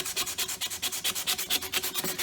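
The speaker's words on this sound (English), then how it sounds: "Sanding with the grain." Rhythmic back-and-forth sanding with the grain on a guitar neck, a close, even scratchy rasp repeating about eight times a second with no talking.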